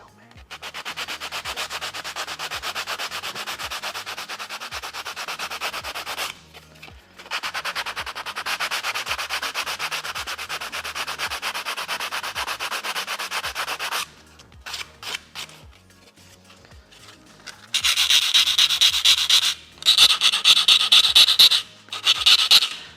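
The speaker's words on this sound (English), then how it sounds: "this inside angle, because it's thin, really easy to sand" A TIE pilot helmet prop is sanded by hand, close up, with rapid, rhythmic rasping strokes in long runs, short pauses between them and a brighter, harsher burst near the end.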